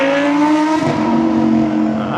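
A Porsche GT4 RS engine revs loudly and close by, a strong sustained mechanical tone that climbs and then shifts pitch partway through, with no talking over it.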